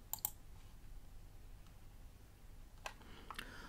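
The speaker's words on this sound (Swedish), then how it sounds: "Och sen klickar jag på spara." Sparse computer mouse clicks while saving an announcement in the Canvas learning platform, a quick double click at the start and a few more near the end, close and crisp over quiet room noise.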